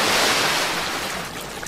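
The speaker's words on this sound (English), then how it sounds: "Oh no, I'm getting sucked towards the waterfall!" Rushing waterfall water in a Transformers Rescue Bots toy scene roars as a loud, continuous broadband wash, strongest at the start and easing slightly over under two seconds.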